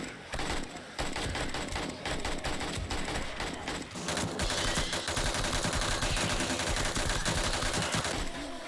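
Game gunfire in the zombie survival title 7 Days To Die, dense rapid shots crackling almost continuously throughout, loud and busy with a steady sustained barrage in the second half.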